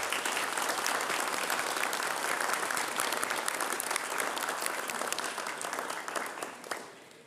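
Graduation audience applause at a Hobart ceremony, a dense steady roar of clapping from a large crowd that thins out and fades near the end.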